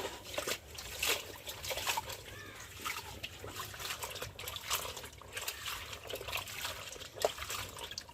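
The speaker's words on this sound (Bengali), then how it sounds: "একটু ভালো করে ধুয়ে নিই।" Water running and splashing as jute leaves are washed by hand, a close, continuous trickling and dribbling with irregular splashes and no voices over it.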